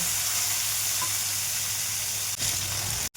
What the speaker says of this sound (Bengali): এবার এইগুলোকে একটু ভাজা ভাজা করে নেব